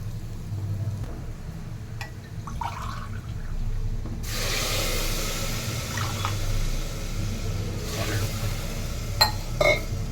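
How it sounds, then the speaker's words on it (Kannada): Water runs and pours into a cooking pot while paneer biryani is being made, a steady rushing flow that grows louder partway through, with a few light clinks near the end and no talking. "ನೀರು ಹಾಕ್ಕೊಡಿ."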